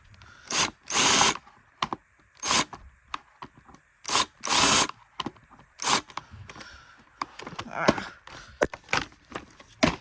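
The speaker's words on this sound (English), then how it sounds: "We'll take out the motor cover by using this power drill." A power drill whirs in short bursts, stopping and starting repeatedly as screws are backed out of a Bissell CleanView Rewind vacuum's motor cover, close and fairly loud with brief pauses between runs.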